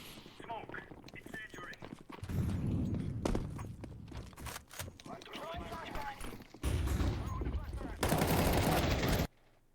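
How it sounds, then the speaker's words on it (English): Footsteps in Counter-Strike 2 on the Vertigo map, quick rhythmic steps amid bursts of gunfire and other game noise, with voices talking over parts of it. "I think you're hearing those steps"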